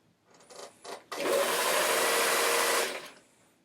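A sewing machine stitches fabric backed with fusible interfacing in one loud, steady run of about two seconds, after a few short handling noises.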